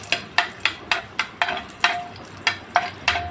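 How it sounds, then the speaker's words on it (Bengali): Cashews and raisins frying in ghee in a pan, with a soft sizzle under a regular series of sharp metallic taps from a spoon or spatula striking the pan, about three per second, close up. "এক চামচ ঘি মিশিয়ে ভেজে তুলে নেব। কাজু আর কিশমিশটা"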